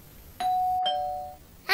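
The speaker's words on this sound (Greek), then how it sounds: "το κουδούνι." Doorbell ringing in a Playmobil stop-motion scene: a single clear electronic chime tone held for about a second, close and alone, with a brief click partway through and a faint high sound at the end.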